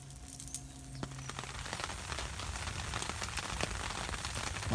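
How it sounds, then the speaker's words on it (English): Steady rain patters on surfaces around a raised-platform campfire during stormy solo camping, a continuous close hiss with scattered sharper drop hits throughout. "My fire's having none of that rain"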